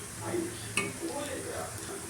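Onion, ginger-garlic paste and green chili stir-frying in hot oil for Indo-Chinese fried rice, with a steady close sizzle and a spatula scraping and clinking against the pan.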